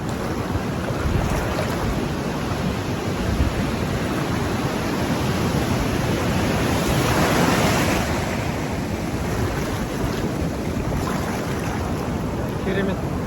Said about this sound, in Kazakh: Толқыны қатты екен.